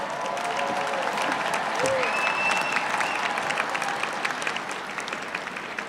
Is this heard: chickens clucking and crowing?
no